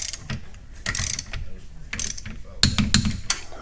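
Ratcheting wrench tightening 12 mm M10 bolts to 42 foot-pounds during a DIRS install in a garage, with several bursts of quick clicking and mechanical rattling, loud and close, separated by short pauses.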